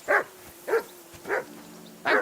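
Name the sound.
dog barking in Kingdom Come: Deliverance 2 video game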